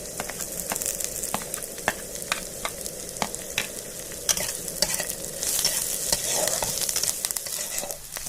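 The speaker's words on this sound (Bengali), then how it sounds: "পেঁয়াজ রসুন কাঁচা লঙ্কা ভেজে নিয়েছি লাল লাল করে ভেজে নিয়েছি" Onion, garlic and green chilli frying in a pan, with a constant close sizzle and regular sharp scrapes and taps of a spatula stirring at a steady rhythm, and no voices.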